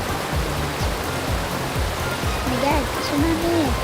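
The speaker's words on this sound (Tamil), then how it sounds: "தண்ணி வருது." Water runs steadily in a bathroom, a continuous close rushing wash with faint higher tones drifting through it and no voices.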